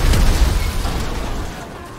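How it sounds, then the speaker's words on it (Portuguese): A loud, booming explosion in the video game GTA V hits hard at the start, then its rumbling roar slowly fades across two seconds. "Vamos dar uma explosão aqui, manos."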